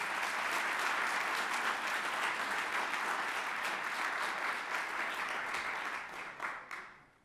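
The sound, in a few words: applause for the robotics team coach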